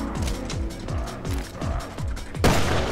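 Rapid gunfire in the survival horror game Resident Evil Revelations 2, a run of regular heavy shots with booming low thumps, ending in a louder crashing blast.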